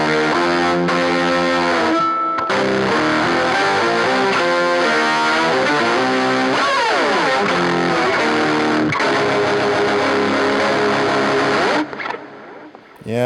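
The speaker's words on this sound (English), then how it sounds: "And add the extra layer on the distortion pedal." An electric violin plays through a distortion pedal layered with an amp IR pedal, giving a gritty, buzzing bowed line. It is loud and sustained, with sliding phrases and no talking.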